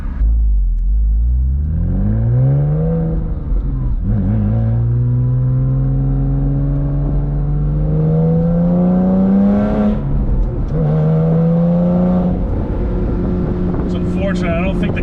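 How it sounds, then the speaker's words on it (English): A 2006 Porsche Boxster S's exhaust roars and rises through several revving pulls, loud and close, with brief drops between each climb. "I don't think the camera does this exhaust justice. It's just such a symphony back there."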